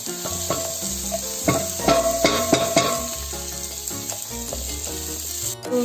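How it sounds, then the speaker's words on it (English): Onions hit hot oil over cooked ginger and garlic for pilau, giving a loud, close, steady sizzle broken by the scrape and clatter of stirring, with no talk. "So as the ginger and garlic is fully cooked, we add the onions."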